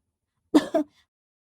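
A girl gives a short double cough, two quick harsh bursts close to the listener, followed by silence.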